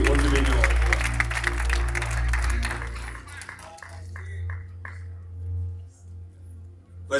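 A church congregation clapping during a service, a loud, dense patter of hands over a held organ or keyboard tone that fades out midway, leaving the sustained music and some voices.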